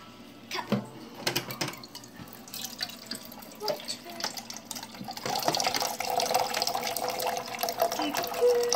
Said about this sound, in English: Let's put the water in. 1 cup of water.